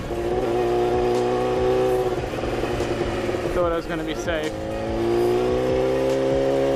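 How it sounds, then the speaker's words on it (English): Cars crawling in busy road traffic, heard from a motorcycle rider's position, with a steady engine drone and passing vehicles throughout as someone talks over the noise. "Look at all the cars."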